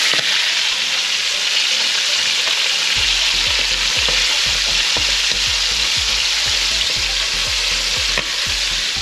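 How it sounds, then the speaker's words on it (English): Steady, dense sizzling of calamari frying in hot oil, loud and close, with occasional soft stirring clicks and no voices. "when you're frying the calamari, just like 1 to 2 minutes per side"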